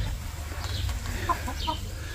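Chickens clucking and a rooster at a home garden where tomatillo and chiles are being planted, with short overlapping calls over a steady low background hum.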